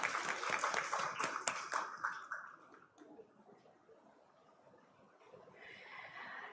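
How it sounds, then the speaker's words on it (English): Audience applause at a road safety seminar felicitation ceremony in Chandigarh, a dense burst of clapping for about two and a half seconds that then fades into a quiet room. "Ladies and gentlemen, let's give a huge round of applause at this moment."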